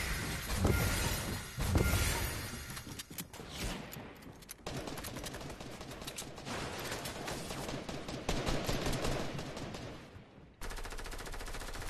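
Rapid bursts of automatic gunfire in Fortnite crackle almost nonstop, loud and dense, with sharp shots layered over a constant roar.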